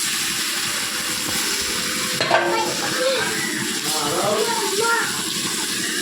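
Food frying in a pan gives a steady sizzling hiss throughout, with stirring scrapes and a brief clatter near the middle, while a voice talks over it.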